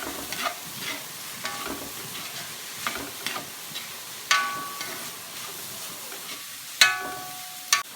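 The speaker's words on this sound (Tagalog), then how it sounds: "Susunod na po natin ang hotdog para maluto na rin po. Ma-fried na siya ng kaunti." Hotdogs frying with pork in a pan, a steady crackling sizzle with scattered scraping stir clicks and a few sharper metallic knocks near the end, no voices.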